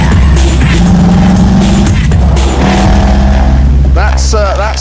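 A 425-horsepower sports car engine roars loudly and steadily throughout, with rising revs and gear changes near the end, driving on a road in California.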